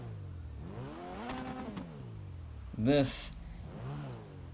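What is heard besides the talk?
1986 Group B car engine revving in GTA 5 video game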